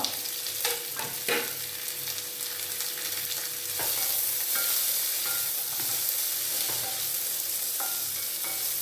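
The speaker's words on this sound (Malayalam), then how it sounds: "കറിവേപ്പില, ഇത് രണ്ടും നമ്മളൊന്ന് വഴറ്റിയെടുക്കും" Sliced onion and curry leaves sauté in hot oil in a pan for a mutton curry. A continuous bright sizzle runs throughout, broken by occasional scraping stirs of a spoon.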